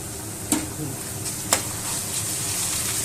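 Ginger paste frying with browned onions in a pan, a steady close sizzle with two sharp stirring scrapes, no talk.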